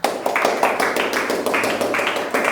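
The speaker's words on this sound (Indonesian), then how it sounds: "berikan tepuk tangan" Classroom applause for a student group presenting network connection and speed testing in a vocational school lesson, a dense burst of many hands clapping close by, steady for a couple of seconds with slight swells.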